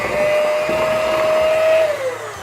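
An electric mixer whirs steadily while beating eggs into cake batter for mini Victoria sponge cupcakes, a loud continuous motor drone with a faint steady whine that drops slightly in pitch near the end.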